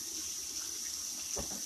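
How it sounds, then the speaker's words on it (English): Hot water runs from a household tap in steady, fairly quiet hissing flow, with a brief splash near the end as a hand passes through the stream. "I'm gonna turn on the hot water"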